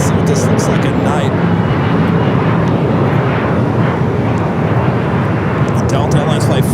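A Delta Airlines Boeing 767-300ER roars at LAX airport at night, a loud, steady broadband jet rumble that stays constant throughout without breaks.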